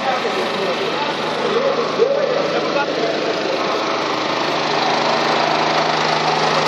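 A generator engine running steadily on a cold evening at the Maidan protest camp, a continuous loud drone under crowd murmur and voices talking nearby.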